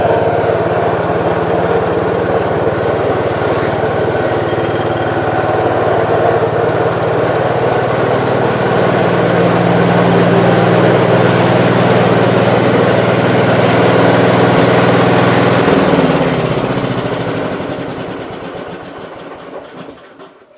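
A 1969 Gravely 430 walk-behind tractor engine runs steadily and loud while being backed up, a continuous close drone that eases off and fades toward the end.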